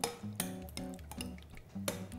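Crushed garlic cloves with a pinch of salt are stirred in a bowl for a chicken fatteh, giving a few close clinks and scrapes of a utensil against the dish with no voice.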